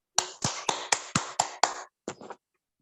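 Classroom applause for a student sounds as a brief burst of sharp, evenly spaced claps, about nine in quick succession, close and fairly faint, with a short pause before the last few.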